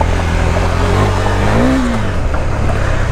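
A KTM Duke 390 BS6 motorcycle accelerates hard off-road while its rear tyre slips, a loud continuous engine drone with a brief rising rev partway through and no talk.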